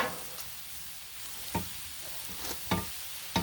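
Smashburgers sizzle on a hot griddle, a steady frying hiss with a few sharp scrape and slap transients spaced through it, close and moderately loud with no talking.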